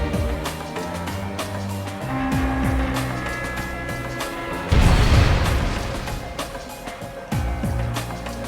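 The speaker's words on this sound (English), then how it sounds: "Was that a bomb?" A bomb detonates in The Legend of Heroes: Trails of Cold Steel, a sudden loud burst midway through the scene that rumbles and decays, set among game music and sound effects with no voices.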